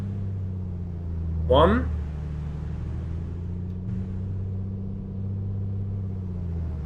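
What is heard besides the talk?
Piper Comanche propeller cycling during run-up, flight simulator game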